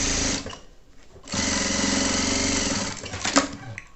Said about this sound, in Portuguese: vamos passar uma costura, um pesponto aqui bem bonitinho